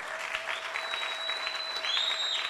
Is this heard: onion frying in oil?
no